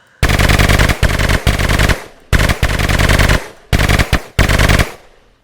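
Rapid automatic gunfire from a gun in a modded Minecraft game, heard as four loud sustained bursts separated by short pauses, with no voices over it.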